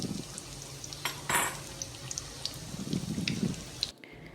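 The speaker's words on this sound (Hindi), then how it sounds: "गोल्डन ब्राउन होने तक हम इनको फ्राई करेंगे लो फ्लेम पे।" Egg nuggets frying in a pan over a low flame, a steady soft sizzle with a few faint utensil clinks and scrapes, fairly quiet and alone throughout.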